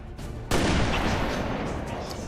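A single sharp sniper rifle shot in XCOM 2 cracks loudly after a quiet moment and leaves a long, noisy echoing tail.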